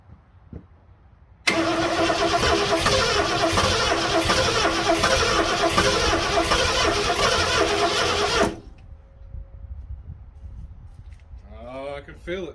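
An old carbureted car engine, abandoned for over 25 years, cranks hard for about seven seconds in one loud, continuous grinding burst without catching, then cuts off to near quiet before a voice briefly speaks.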